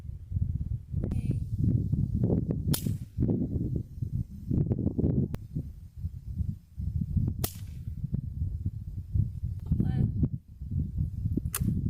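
A Savage Mark II .22LR rifle fires during long-range shooting outdoors, three sharp, short cracks spaced several seconds apart over a constant heavy wind rumble.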